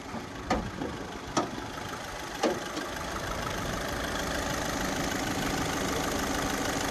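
A Skoda Rapid car engine idles steadily at close range, with a few brief sharp clicks or knocks early on before settling into an even hum.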